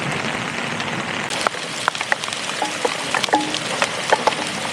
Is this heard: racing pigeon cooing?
no